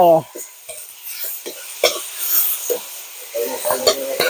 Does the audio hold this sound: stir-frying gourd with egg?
yes